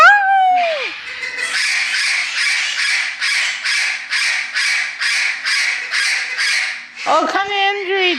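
Rescued parrots in cages at a Southern California parrot rescue squawk in a steady, rhythmic run of loud, harsh calls, with a few squeaky whistles at the start and end.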